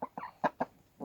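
Hens settling in a henhouse at closing time on an April evening, giving a string of short, close clucks and throaty murmurs in uneven bursts.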